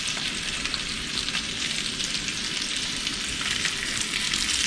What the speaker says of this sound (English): This reverse sear goes fast.